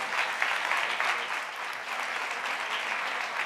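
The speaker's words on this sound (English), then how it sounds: "give them another round of applause" An audience at a women's summit claps steadily for several seconds, a dense, even patter of many hands with no break in the sound.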